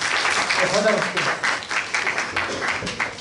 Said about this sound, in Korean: 야 박수 한번 쳐줘.